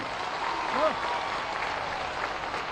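Applause from a political rally crowd in North Kamrup, Guwahati, Assam, steady and dense clapping for the local MP, with a voice briefly audible over it.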